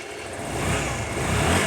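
A Honda Varadero motorcycle engine idles with its idle raised slightly, a loud, steady close-up rumble that swells a little partway through.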